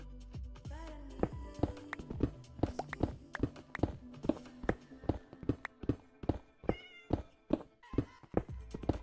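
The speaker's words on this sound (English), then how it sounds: "Where's this cat?" Meows from a cat in Minecraft repeat over and over in a quick, even stream of short, clear calls, each one close and distinct.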